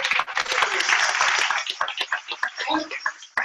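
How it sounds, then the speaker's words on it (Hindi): Loud applause from an audience at a religious study gathering, dense clapping early on that thins into scattered claps with voices mixed in. "एक बार जोरदार तालियां।"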